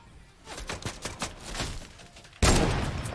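Sniper rifle fire in a squad-based shooter game, a run of rapid cracking shots followed by a sudden louder burst of sustained gunfire noise.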